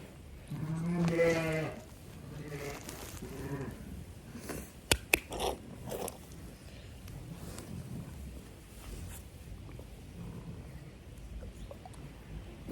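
Ewes bleat loudly near a lambing pen, with a strong nearby bleat early on, then fainter calls, a few sharp knocks and low farm background noise.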